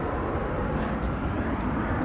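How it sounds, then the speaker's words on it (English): An airplane passes high overhead as a steady, broad engine roar that stays constant and moderately loud throughout, with no talk over it. "So the plane is way above me."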